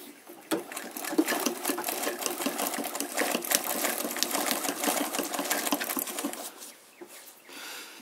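A Singer 319/306K domestic machine, run by treadle, stitches through three layers of canvas with a large needle, giving a continuous close mechanical whirring and clatter with small ticks, then easing off near the end.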